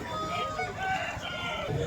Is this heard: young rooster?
yes